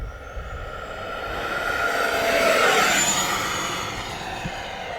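RC jet model aircraft on a 6S 3200 battery flying on a cold day: a high ducted-fan whoosh rising as it passes nearest near the middle, then fading, over outdoor background noise.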